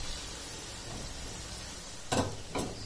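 Chopped onion fries in a pan for a Spanish omelette, giving a steady soft hiss and sizzle with a couple of brief clinks of a utensil stirring near the end.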